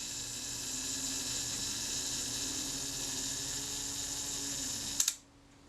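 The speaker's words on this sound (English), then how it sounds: "Let's see if the self-timer sets and fires correctly" A Kodak Retinette IIB film camera's self-timer runs with a steady mechanical whirring buzz for about five seconds, ending in a sharp shutter click, then quiet.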